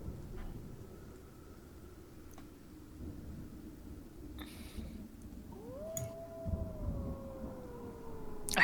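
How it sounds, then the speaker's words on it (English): A wolf howl in a video game: a faint, long rising-then-falling tonal wail in the second half, heard over low ambient game noise and scattered quiet sounds. "I heard a wolf howl"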